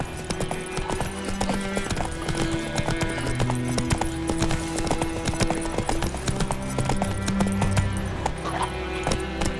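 Hoofbeats of Roach, Geralt's horse in The Witcher 3, run in a steady clip-clop rhythm close by, set against an orchestral score that plays throughout.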